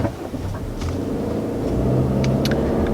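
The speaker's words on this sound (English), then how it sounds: "That's your auto start-stop system" A 2020 Subaru Legacy engine restarts through its auto start-stop system, a low rumble that swells into a smooth steady idle heard from inside the car, with a few faint clicks over it.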